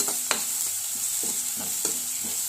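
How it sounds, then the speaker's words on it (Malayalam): Sliced onion is stirred in hot oil, a continuous sizzle broken by regular scraping strokes of the spoon against the pan, close and steady, with no voices. "നന്നായിട്ടൊന്ന് ഇളക്കി കൊടുത്ത് എണ്ണയ്ക്കകത്ത് വഴറ്റാം."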